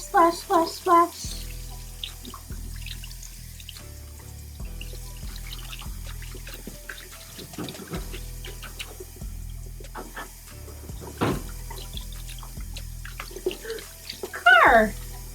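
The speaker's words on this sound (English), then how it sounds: "Splash, splash, splash, splash." Water sloshes and splashes steadily, as if in a filling tub, with a voice chiming in briefly at the start and end.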